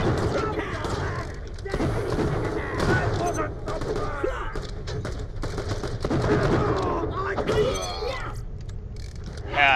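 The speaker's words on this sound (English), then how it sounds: "who's shooting at me?" Enemy gunfire in the video game Borderlands: The Pre-Sequel, dense rapid bursts of shots and booms rattling almost continuously at a steady, loud level, with voice-like game sounds mixed in amid the clatter.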